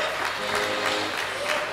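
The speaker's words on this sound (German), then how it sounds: "da gibt es einen riesen Applaus für den Bernhard Gamsäger" An audience at a folk Gstanzl singing event in the Pielach valley applauds warmly for Bernhard Gamsäger, steady clapping with a faint hum of music underneath.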